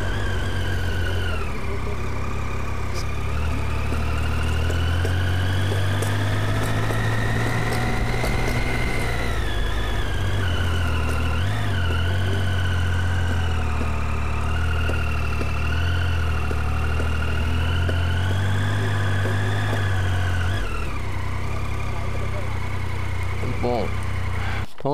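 A motorcycle engine idles with a steady low rumble and a faint whine, its pitch drifting slightly, filling the whole stretch without any clear speech.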